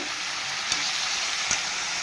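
Cumin and coriander powders sizzle in hot oil for a jackfruit curry, a loud, close, continuous frying hiss with two soft stirring taps, and no voices.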